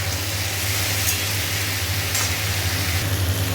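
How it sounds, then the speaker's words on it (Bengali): Food sizzles steadily in a frying pan on a home kitchen stove, a continuous close crackle with a low hum underneath and no talking. "আর এখানে ভাজা হচ্ছে আর একটু ভাজা হবে"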